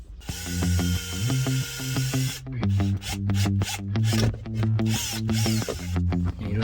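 A hole is drilled into a panel for an LED cup plate in an All-New Tucson interior. A close, loud, rough grinding and rasping comes in rhythmic strokes with brief breaks, and no one speaks.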